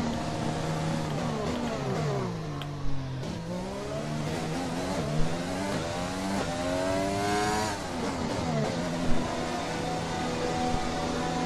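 A Ferrari Formula 1 car in the F1 2020 video game enters the pit lane at the Chinese circuit, its high-pitched engine whining steadily and sliding up and down in pitch at close range, with no voices.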